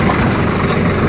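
A Swaraj 744 XT tractor pulling a fully overloaded trolley runs with a loud, steady low engine drone, close and unbroken throughout.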